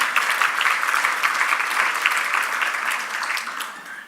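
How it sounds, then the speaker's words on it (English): An audience at a leadership summit claps steadily in a dense, moderately loud burst of applause that fades slightly toward the end. "Don't know if there's any round of applause for David"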